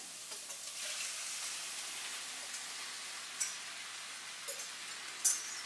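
Chicken pot pie sauce poured into a hot Rock Crock, giving a steady soft sizzle and hiss with a few small clinks, fairly faint and without speech.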